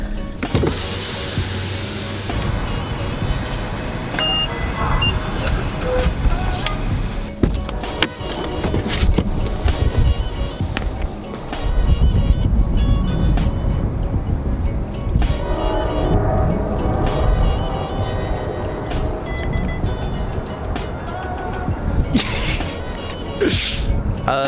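A replacement car driven to the dealership in the dark before sunrise, heard from inside the cabin as a steady road and engine rumble with occasional clicks and bumps, continuous and moderately loud throughout.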